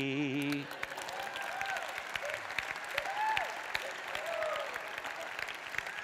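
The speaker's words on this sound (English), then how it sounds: "the ladies are not really enthusiastically clapping" Audience applause at a stand-up comedy show: light, scattered clapping from the crowd, held at a steady, modest level for about six seconds, with a brief voice at the very start.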